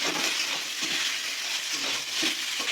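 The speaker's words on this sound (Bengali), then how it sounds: "বেগুন আর পেঁয়াজটা একটু ভেজে নিলাম" Eggplant and onion frying in a pan with salt and turmeric, a steady close sizzle with soft stirring scrapes, no voices.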